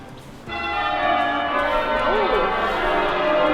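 Church bells peal continuously in York, a bright, sustained ringing that rises in loudness and dominates over faint voices and outdoor street ambience.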